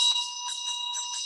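A Tibetan dorje bell rings with a steady high metallic tone that pulses in gentle waves, near and clear, with no talk over it.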